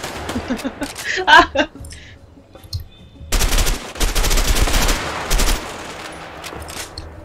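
Bursts of automatic gunfire from the co-op prison-break game A Way Out, sharp rapid shots clustered early, then a loud sustained spray of fire in the middle, with players talking and laughing over it.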